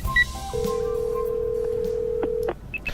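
A phone in a video game dials out: a few quick dial tones, then a long steady tone held for about two seconds, ending with brief beeps.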